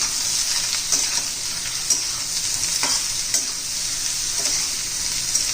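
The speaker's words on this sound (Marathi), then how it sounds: "थोडस घालायचं तेलामध्ये चांगला असा गोड आपण आता परतून घेणार आहोत" Ridge gourd sautéing in oil in a pan for a spicy thecha: a steady, fairly loud sizzle runs throughout, with occasional soft stirring scrapes and no talking.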